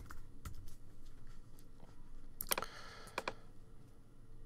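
Scattered, faint clicks on a computer keyboard entering a password, a few isolated taps and then a brief cluster of sharper keystrokes, close and quiet over low room noise, no speech.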